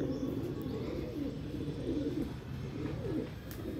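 Several wild pigeons coo in a low, continuous murmur while feeding near an opened cage, with faint chirps over a steady background.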